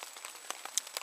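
Rain falls on a shelter roof, making faint, scattered pops and ticks of individual drops over a soft, steady hiss.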